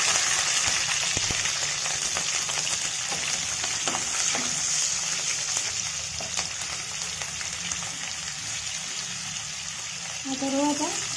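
Cumin seeds fry in a pan for ridge gourd and chana dal curry, a steady bright sizzle with occasional spoon scrapes and light stirring, and a voice speaking faintly near the end.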